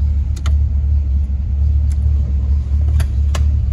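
A 1957 Chevy four-door hardtop idling, its engine giving a steady low rumble that runs throughout, with a few brief clicks or jingles over the top and no talking.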